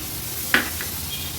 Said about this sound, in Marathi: आता या स्टेजला आपण बारीक चिरून घेतलेला हा टोमॅटो आहे तो ॲड करूया।